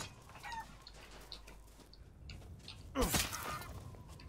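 Chickens cluck in the video game Resident Evil Village, with scattered soft clucks and then a louder squawking burst near the end, all fairly quiet over faint ambience.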